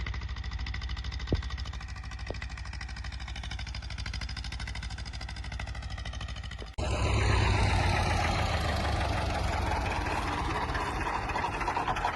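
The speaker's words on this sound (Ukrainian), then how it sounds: "Кажу Назарові вже заглуши трактора" A T-25 tractor's diesel engine idles with a steady low throb, then its pitch and loudness jump as the revs rise and hold, heard up close.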